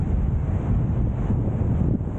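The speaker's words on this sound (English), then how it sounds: "It's extremely windy." Strong, steady wind buffets the microphone on a red-rock beach along the Oregon coast, a continuous low roar with surf mixed underneath and no speech.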